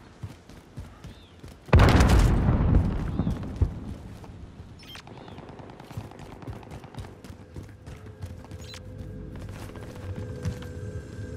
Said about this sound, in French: Grenade lancée!